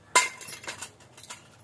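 A toy cooking pot from a child's play kitchen set gives one sharp, bright clink up close, followed by a few softer rattles and taps that fade quickly.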